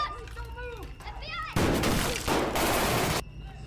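Dense burst of rapid gunfire during an FBI raid scene in a film, a loud sustained rattle of shots lasting under two seconds, preceded by a speaking voice and tense sounds.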